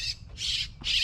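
A baby bird fallen from its nest gives three loud, harsh squawks in quick succession close by, each a raspy burst with short gaps between them.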